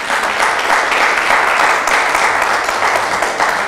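A church congregation applauds to acclaim the Lord during a sermon on marriage, a steady, loud wash of clapping that holds evenly throughout without pause.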